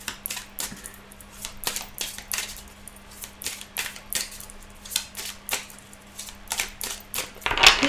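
Tarot cards shuffled close by, producing a steady run of sharp flicking taps and slides with a faint low hum underneath and no talk.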